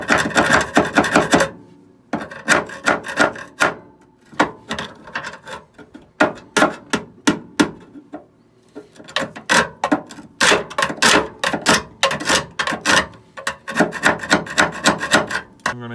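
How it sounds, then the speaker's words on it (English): A hand tool scrapes welding slag from a welded steel chassis leg in repeated rasping strokes, loud and close, coming in irregular bursts separated by short pauses. "Go ahead, scrape all the slag off."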